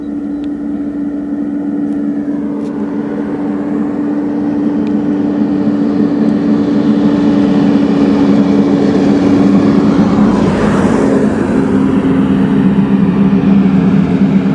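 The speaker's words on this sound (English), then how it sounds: "That's our usual traffic around here." Tractors pass along a rural road by a barn and silo in the morning, a loud steady engine drone with a low hum that swells and grows rougher as the vehicle nears, with no talking.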